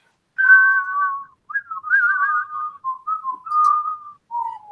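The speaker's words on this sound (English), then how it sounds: "Everyone can whistle it better than me." A person whistles a tune alone, a string of clear sustained notes in short phrases separated by brief breaths, close and solo.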